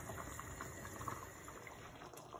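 Chicken paste bubbling and boiling in a pan on the stove, a faint steady simmering hiss with soft bubbling pops throughout, heard alone with no talk.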